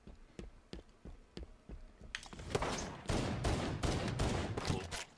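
Rapid gunfire from the Halo 5 video game in SWAT mode, sparse single shots at first, then dense overlapping bursts of automatic fire that grow louder and busier through the second half.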